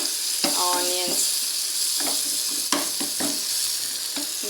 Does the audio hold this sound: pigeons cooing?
no